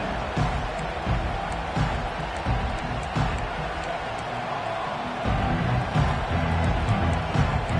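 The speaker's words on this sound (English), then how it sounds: "This crowd bringing an ear-splitting welcome to their visitors." A stadium crowd in the College Football 25 video game roars steadily, a dense, constant wall of cheering that swells slightly louder near the end.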